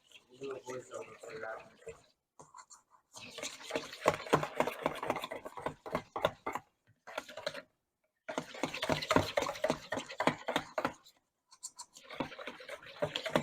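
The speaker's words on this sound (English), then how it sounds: "we're in the middle of whisking this. We have to whisk till smooth." Crumble cake batter for a double-apple crumble cake is whisked in bursts of rapid, scratchy whirring, stopping and starting several times over the stretch, with voices talking along with it.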